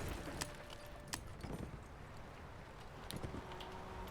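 Horse hooves clip-clopping in the strategy game Anno 1701, quiet and distant under a busy ambient bed, with a few brief sharp knocks scattered through.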